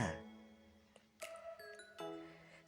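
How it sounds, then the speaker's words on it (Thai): A Tinker Bell chime effect made by rubbing aluminium rings out as a few faint, bright tinkling tones, each sustaining briefly with no voices present. "เสียงทิงกับเบลในการ์ตูน เกิดจากการใช้อลูมิเนียมมาสีกัน ไม่ใช่เสียงของกระดิ่ง หรือระฆังอย่างที่หลายๆคนเข้าใจ"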